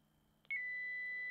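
A TinySA signal generator puts out a steady 2 kHz test tone that starts abruptly after a couple of faint clicks and holds at an even level, thin and clear.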